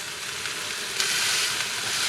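Day-old rice frying in a hot pan gives a steady, close sizzle with a brief louder crackle partway through. No one speaks.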